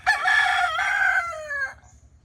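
A rooster crows once, loud and close, in a village in Taytay near El Nido on Palawan in the Philippines, a single drawn-out call that trails off with no talk over it.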